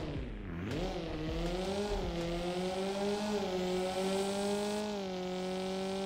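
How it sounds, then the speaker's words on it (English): A rally car engine revs in the Drive World video game, rising sharply then settling into a sustained, even drone with a strong tonal whine and layered harmonics, loud and close with no talk. "There's what the car sounds like."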